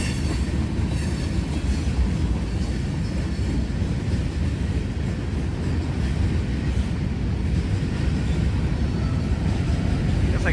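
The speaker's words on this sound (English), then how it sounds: "First time I've ever seen this with 4 locomotives. Plus he's hauling too." A long freight train hauled by four locomotives rolls past at a railroad line in Elkhart, a steady loud rumble of wheels and cars with faint squeals, continuous throughout.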